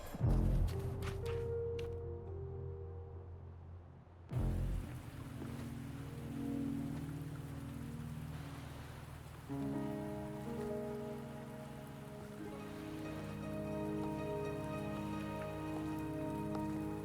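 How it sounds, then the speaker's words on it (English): Steady rain pattering on a surface in the video game Wuthering Waves continues throughout, with soft ambient game music tones layered underneath. "Are you trapped here by the rain?"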